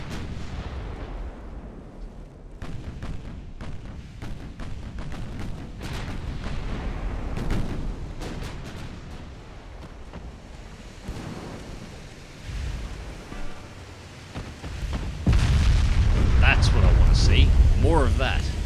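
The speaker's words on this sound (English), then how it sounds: "Comes volleys from the rears and forwards on Taibo." Naval gun volleys from warship turrets in the naval battle game Ultimate Admiral: Dreadnoughts, with heavy booming blasts rolling like thunder over a constant low rumble and a louder, denser barrage near the end, alongside a voice.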